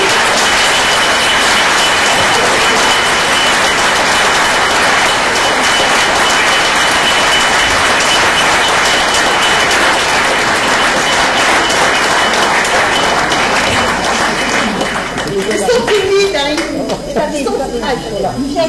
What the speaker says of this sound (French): je vais vous demander de faire un tonnerre d'applaudissements à toute notre équipe